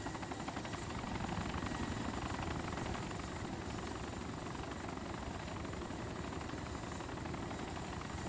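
A Little Bird helicopter in the video game Arma 2 gives a steady rotor thrum and engine whine through the whole stretch, loud and continuous, with no voices.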